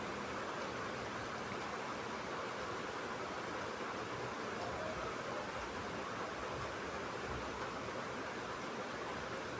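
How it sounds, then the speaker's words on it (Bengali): Chopped onion and garlic frying in oil: a quiet, even, continuous sizzling hiss with no breaks and no voices. "এখানে কিছু পেঁয়াজ কুচি আর রসুন কুচি দিয়ে দিলাম। দিয়ে এটা ভেজে নিব কিছুক্ষণ,"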